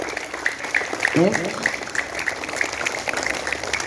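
Students applaud their school classes at the close of a school orientation week, with sustained clapping running under a speaking voice and children's voices.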